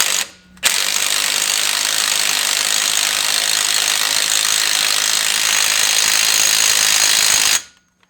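An impact gun runs a 36mm hub nut tight on a Ford Transit Custom front hub: a loud, sustained hammering rattle lasting about seven seconds, starting abruptly after a brief pause and cutting off sharply at the end.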